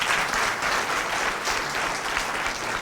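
Steady, dense applause from an audience fills the whole stretch at an even loudness, with no voices rising above the clapping.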